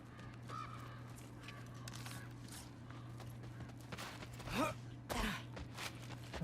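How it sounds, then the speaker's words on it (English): In the game God of War Ragnarok, one of Odin's ravens calls with a few rough, croaking caws, the last two louder, over a low steady background hum. "I feel like I hear an Odin bird."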